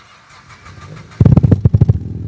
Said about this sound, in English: Drivers, start your Toyota engines.